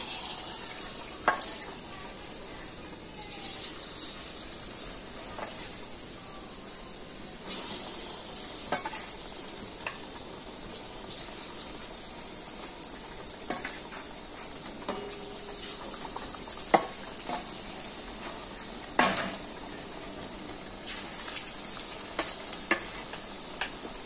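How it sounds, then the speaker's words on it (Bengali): Marinated fish pieces frying in hot oil sizzle and crackle steadily at a low level, with scattered pops and a few louder spits, and no talking over it. "ম্যারিনেট করা মাছগুলো তেলের মধ্যে একটা একটা করে ছেড়ে দেবো।"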